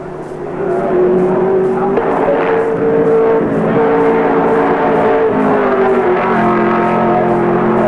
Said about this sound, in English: Running strongly, Gary Rogers, the Soundwave Disco's V8 Commodore.